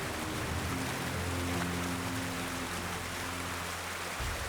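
Steady rain hisses over a rushing river in Yellowstone, a dense continuous wash with a low hum running beneath it until near the end.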